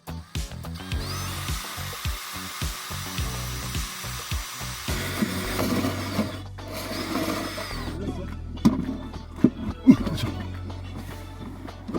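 A power drill bores a hole through interior trim of a Tesla Model 3 Highland, whirring in uneven bursts close by with clicks and handling knocks in between.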